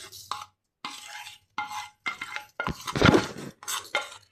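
Roasted dried chillies and their seeds are scraped and tipped from a pan into separate bowls, giving short, close bursts of rustling, scraping and light clinks of utensils against dishes, separated by brief pauses.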